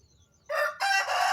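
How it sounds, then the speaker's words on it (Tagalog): A rooster crows outdoors near pigs, a short, fairly close cock-a-doodle-doo in two bursts rising out of near silence. "Naku po, may manok."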